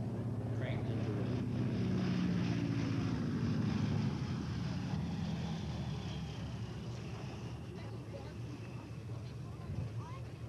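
A vintage warbird propeller aircraft makes a slow crosswind landing pass at the Warbirds Over Wanaka airshow, a steady distant engine drone fading gradually, with an announcer talking over it.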